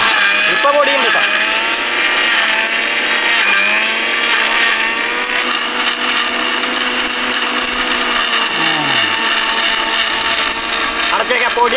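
A kitchen mixer grinder grinds dry leaves with a loud, continuous motor whine that wavers slightly in pitch and runs alone throughout.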